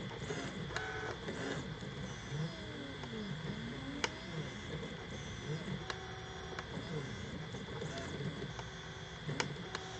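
An EasyThreeD K1 3D printer runs a print, its stepper motors whining and warbling in shifting tones, with faint ticks and clicks over a steady mechanical hum, recorded close up.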